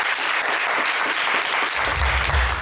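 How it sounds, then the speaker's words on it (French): Studio audience applause on the French television game show Le Coffre Magic, a loud continuous burst of clapping heard alone, with a low rumble entering near the end. "On vous applaudit une fois de plus très fort"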